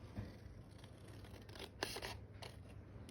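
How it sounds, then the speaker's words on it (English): Large scissors snip paper scraps in a few quick, quiet cuts close by, with faint rustling of paper between the snips and no speech. "Big scissors."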